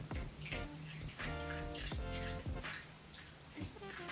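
Red-dyed water drips and splashes out of period pants, a wet series of irregular plops and trickles over a few seconds, fairly close with a slightly hollow bathroom-like ring.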